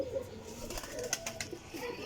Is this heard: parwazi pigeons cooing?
yes